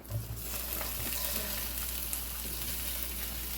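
Polish sausage sizzling in a hot skillet, an even, steady crackling hiss heard up close, with a brief clatter at the start and a low hum underneath.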